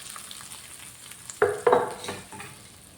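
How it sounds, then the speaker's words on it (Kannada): Spices crackling as they hit hot oil for a tempering poured over green chutney, a soft background sizzle broken by two sharp bursts of popping and spluttering, then fading crackles. "ಒಗ್ಗರಣೆ ಕೊಡಬೇಕು ಇನ್ನು"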